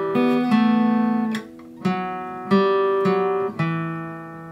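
A short melodic guitar lick from a song, several plucked notes each ringing bright and sustained, played alone in a steady, unhurried rhythm.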